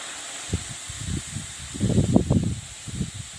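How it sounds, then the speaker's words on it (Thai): Quiet, irregular bubbling of nam pu (Thai rice-field crab paste) simmering over low heat in a pan, with soft low pops and a faint steady hiss. "นี่ก็ปล่อยมันเคี่ยวไปครับ ใช้อุณหภูมิไฟอ่อนๆนะครับ"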